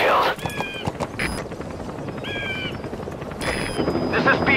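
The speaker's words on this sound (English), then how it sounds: "I'll send the extraction chopper." An extraction helicopter in Metal Gear Solid V thrums nearby with a continuous rotor chop, while clipped radio-style voice chirps and tones cut in over it.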